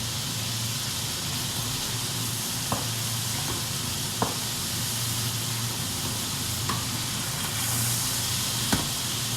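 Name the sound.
piment d'Espelette sizzling in a wok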